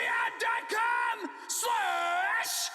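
A person screams in several loud, drawn-out bursts with rising and falling pitch, close to the microphone, separated by brief pauses.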